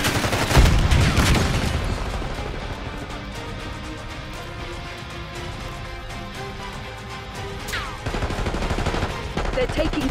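Dense automatic gunfire from a Call of Duty: Black Ops 6 multiplayer match, with bursts and explosions layered into a loud, continuous battle din, swelling again near the end.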